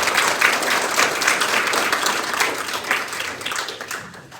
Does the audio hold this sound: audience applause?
yes